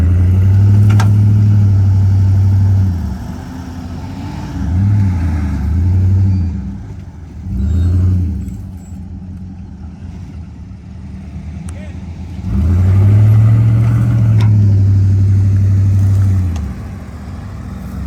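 A vehicle engine revs loudly in repeated surges while trying to tug another vehicle buried in the ground in 108-degree heat, with long roaring pulls separated by quieter idling and voices talking.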